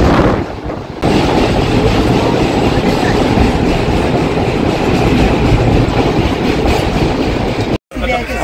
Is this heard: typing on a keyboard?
no